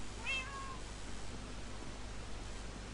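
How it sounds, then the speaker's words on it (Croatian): A single short cat meow from Minecraft near the start, followed by a steady hiss of background noise. "Znači, samo jedan mjau."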